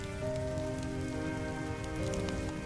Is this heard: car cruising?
no